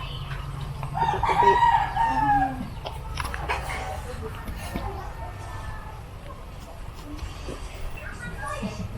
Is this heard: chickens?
yes